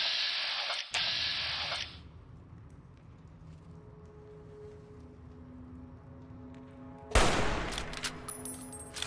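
Two loud gunshot bursts in Fallout New Vegas, one at the start and another near the end, with a rainy, hissing game ambience and a low hum in between.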